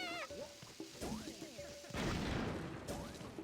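Bomb rocks blasting against a stone wall in Pikmin 3 Deluxe, heard as a few sharp, loud crashes with a burst of debris noise among chirpy game tones and small creature calls.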